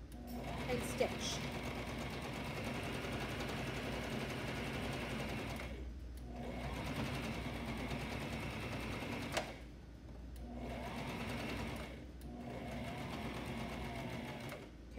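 A sewing machine running a basting stitch around boys' pajama fabric, a fast steady mechanical whirring in several runs separated by short pauses, close and fairly quiet, with a person talking at times.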